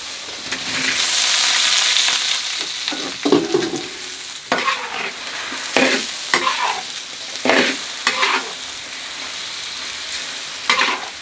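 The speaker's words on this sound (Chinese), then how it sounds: "现在我们就把肉放下去" Pork for Sichuan-style braised pork is tossed into caramelized sugar in a hot wok. A loud sizzle swells, then gives way to repeated scraping and clanking strokes of the spatula as it is stir-fried.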